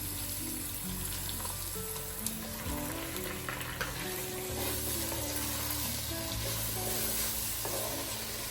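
Star fruit pieces fry in hot oil for a pickle, giving a steady, close sizzle and crackle with a low bubbling bed beneath that runs unbroken throughout, with no voices over it.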